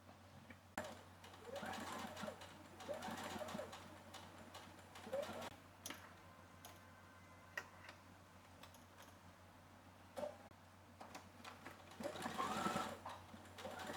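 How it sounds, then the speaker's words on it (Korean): A sewing machine stitching the folded edge of a summer dress, running in bursts of quick rhythmic ticking separated by short pauses, quiet and close over a low steady hum. "끝에 스티치를 쳐줍니다"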